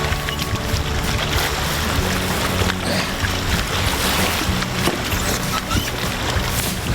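Canoe paddling on an Algonquin lake against a headwind, with broadband splashing and wash of water against the hull, gusty wind noise and a steady churning texture throughout, close and loud.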